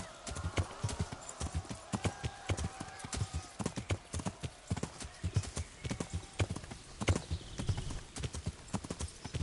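Horse hooves clip-clopping in the video game Kingdom Come: Deliverance, a close, steady rhythmic trot of sharp hoof strikes with faint background tones, someone speaking briefly over it.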